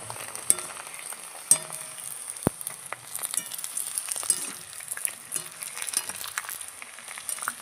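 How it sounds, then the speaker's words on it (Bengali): Sago papad deep-frying in hot oil, with a steady, busy crackle and sizzle throughout and a few sharp pops and clinks from handling, fairly close and alone without talk. "বাদবাকিগুলো ভেজে নিচ্ছি।"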